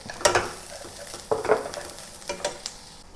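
Onion and garlic sizzle and crackle in a hot pan while they are stir-fried for a chicken and cabbage dish. Spatula scrapes come in several short bursts close by, over a steady frying hiss.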